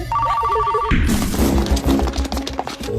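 Telephone ringing in a tense film scene: a short electronic ring pattern heard clearly at first, then swallowed by a burst of loud crashes and commotion.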